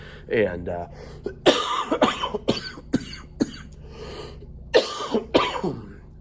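Repeated harsh coughs, some in quick clusters, close to the mic, interspersed with short bits of speech and throat clearing.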